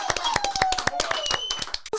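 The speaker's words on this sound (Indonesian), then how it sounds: "Berikan tepuk tangan sekali lagi untuk Beckham Putra." Studio audience clapping for footballer Beckham Putra at the close of an Indonesian sports talk show, a few sharp, close hand claps in a loose rhythm over a short stretch, with a voice briefly audible.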